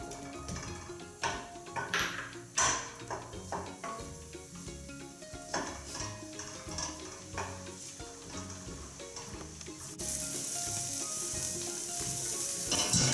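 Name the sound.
shallots frying in melted butter in a pan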